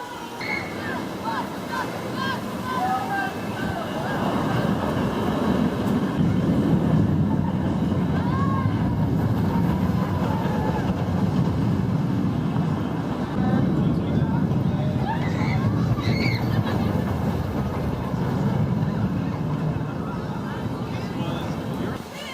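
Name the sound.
Zach's Zoomer small family wooden roller coaster ride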